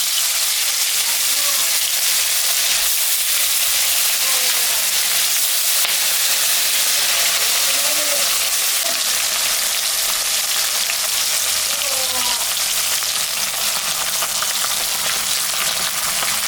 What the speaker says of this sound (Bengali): তেলটা গরম হয়ে গেছে, আমি এখন মাছ ভাজব।